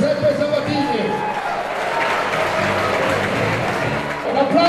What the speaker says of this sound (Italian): un applauso per Giovine